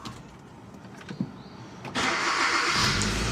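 A car engine cranks and catches at about two seconds, then settles into a loud, steady run close by after a quiet lead-in with faint clicks.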